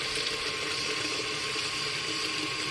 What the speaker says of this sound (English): we're going to put some hot water on it